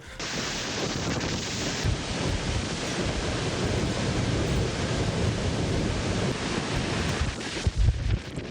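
Typhoon Ragasa makes landfall on the southern China coast, with strong wind roaring across the microphone over pounding surf, a loud continuous broadband rush with gusty bumps near the end and no voices.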